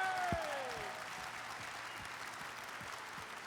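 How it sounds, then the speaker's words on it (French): Faint applause from an audience at a live cooking show event, a soft steady patter of clapping heard at a distance, with a brief tonal sweep at the start. "Vous allez me faire un tonnerre d'applaudissements, s'il vous plaît"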